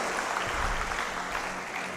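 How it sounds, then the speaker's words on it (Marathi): A crowd claps steadily in a short burst of applause, moderately loud and sustained throughout. "त्यांच्यासाठी एकदा मनातून का टाळ्या वाजवा"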